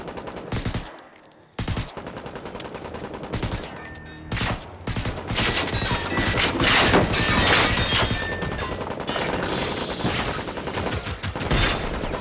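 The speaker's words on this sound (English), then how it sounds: "we got some machine guns firing over here" Sustained machine-gun fire in the video game Generation Zero: dense, continuous automatic bursts with a brief pause early on, loud and close, mixed with crashes and booms throughout.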